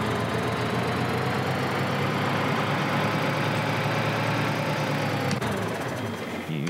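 Tractor engine idling in the video game Farming Simulator 2013, a steady, continuous mid-pitched engine drone held at an even level throughout, with no talk over it.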